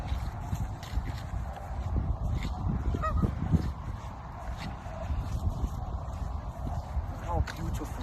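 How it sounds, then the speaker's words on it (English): Flock of about forty geese honking outdoors, scattered calls at moderate distance over a steady rushing background, with talk running underneath. "Notice how the geese are in a flock of 40 geese."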